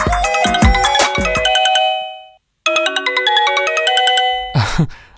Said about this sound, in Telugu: అక్క ఫోన్ చేస్తుంది.